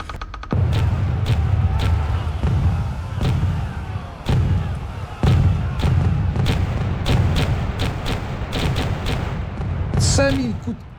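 Repeated booming cannon shots fired at the English fleet during the siege of La Rochelle, some in quick clusters, ring out over a dense rumbling battle din, with a whooshing sweep near the end.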